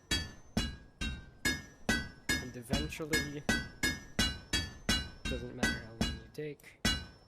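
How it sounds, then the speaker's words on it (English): Repeated metallic hammer blows on hot metal at an anvil in the VR game A Township Tale, about twelve sharp clanging strikes in a steady rhythm, ringing close and loud, with a voice talking over them. "You can start hitting it with any hammer."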